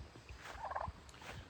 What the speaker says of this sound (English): there go y'all turkeys